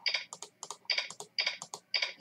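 Fast bursts of computer keyboard typing in uneven clusters of clicks as an answer is entered in a quiz game, close and crisp with no talking.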